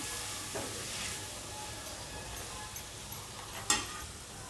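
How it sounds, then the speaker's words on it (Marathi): Turmeric, asafoetida and red chili masala sauté in a pan with a soft, steady sizzle, punctuated by several light scraping stirs at regular intervals, close and without talk. "आता आपण हे व्यवस्थित मसाले यामध्ये परतून घेऊया"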